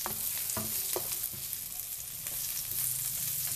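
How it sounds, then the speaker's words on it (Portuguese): Salmon with salt and black pepper sautéing in a pan, a steady close sizzle with a few utensil clinks and stirring scrapes near the start. "um pouquinho de pimenta do reino e vamos deixá-lo refogando aqui um pouquinho"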